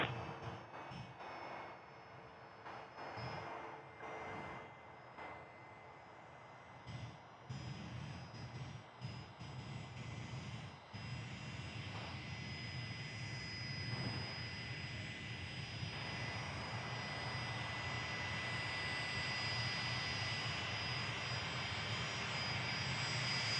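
A passenger airplane takes off from runway 03 at Perth Airport, its jet engine roar building from a distant hum into a loud, sustained, rising whine.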